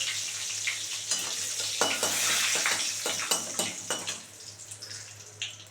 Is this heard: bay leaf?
yes